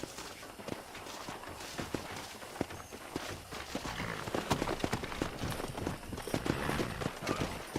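Rapid, steady clip-clop of horse hooves on hard ground in Red Dead Redemption, rhythmic and fairly close, with a faint background wash.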